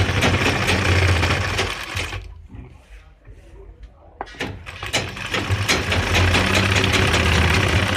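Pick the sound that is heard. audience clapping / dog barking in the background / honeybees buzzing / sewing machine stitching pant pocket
sewing machine stitching pant pocket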